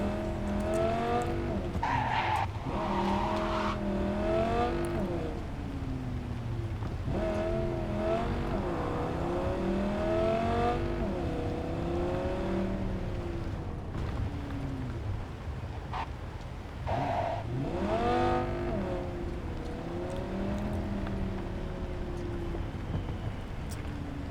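A car drives and skids through the streets of Cyberpunk 2077, its engine revving in a continuous loud, wavering tone broken by repeated tire squeals across the whole stretch.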